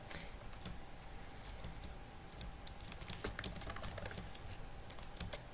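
Close keystrokes on a computer keyboard come in quiet, irregular bursts of clicks, with no voices.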